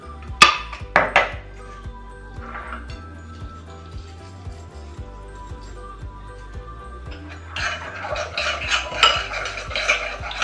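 Seasoned chicken being stirred in a pot with nutmeg and salt, giving scraping clinks of a utensil against metal, loud near the start and busier toward the end, with no talking.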